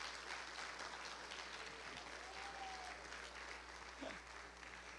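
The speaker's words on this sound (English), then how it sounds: "we want to give all of them a round of applause tonight as well" An audience at a school spring concert applauds steadily, a dense wash of many hands clapping at moderate volume, continuing evenly throughout.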